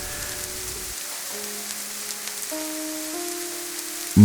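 Steady rain falling at night, a constant soft hiss of drops on surfaces with faint low tones running beneath, even and unbroken throughout.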